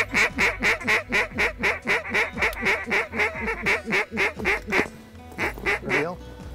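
Ducks call in a rapid, loud series of quacks and honks during a duck hunt, close and rhythmic, briefly pausing before resuming.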